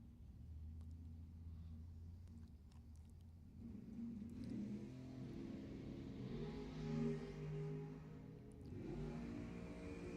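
Dragster and pickup truck racing down a drag strip at Lebanon Valley Dragway, a distant engine rumble that swells into louder revving roars partway through, heard from afar.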